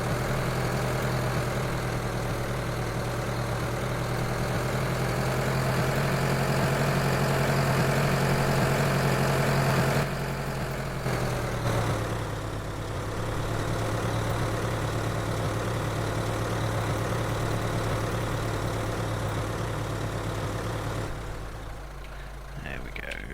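A tractor engine in Farming Simulator 2013 idles steadily and loudly for the whole stretch, a deep continuous drone that shifts pitch slightly partway through and eases down near the end.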